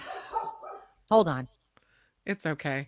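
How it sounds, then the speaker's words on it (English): A dog barks a few times close by in a home during a conversation, the sharp barks breaking between stretches of talking. "Sorry about my dog."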